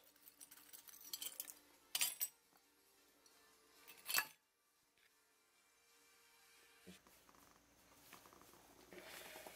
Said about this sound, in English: Some more glass.